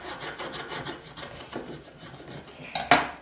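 A Pokemon card scratched with heavy pressure gives close, rasping scrapes in a rough rhythm, ending in two sharper, louder scratches.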